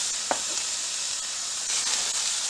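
A whole onion sizzles in a hot pan, a constant bright frying hiss up close with a soft knock and a few faint stirring sounds, no speech.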